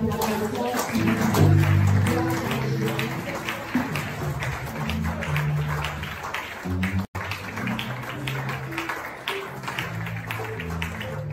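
A church congregation applauds and cheers in welcome, with clapping and taps running through music or singing for several seconds, steady and moderately loud.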